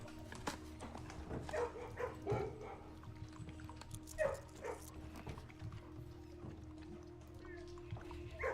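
Dogs in a kennel in the video game Blue Prince give off soft yips, whimpers and scuffling at moderate distance, scattered irregularly through a quiet background with a low steady hum.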